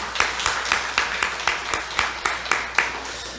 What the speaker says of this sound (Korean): 오늘 오신 새 가족이나 또 오랜만에 교회 방문해 주신 분 우리 박수로 환영하겠습니다